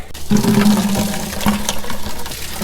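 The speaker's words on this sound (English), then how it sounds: "I'm filling the bucket up to see if it's dirty" Water runs steadily and splashes into a bucket, a continuous gushing fill sound throughout.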